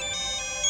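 A phone ringtone with a bright electronic melody plays loud and close, sustained through a brief moment with no talking.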